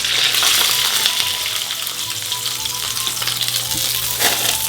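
Magret duck breasts sizzle skin-side down in a hot pan, a loud, close, continuous crackling fry with scattered pops and spatters and no voices.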